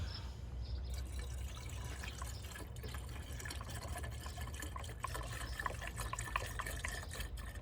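Liquid pours steadily from a gallon jug during the restoration of a 2005 Chevrolet Silverado, a continuous close gurgling splash with faint drips and no talking.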